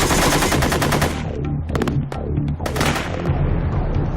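Gunfire rings out at pop-up targets during a military combat training drill, with rapid automatic bursts followed by several sharp single shots and echoing booms, loud and close.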